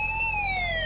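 Emergency flasher siren on a BMW X5 M in the Spin Tires video game wails as a steady electronic tone, slowly falling in pitch, loud and alone.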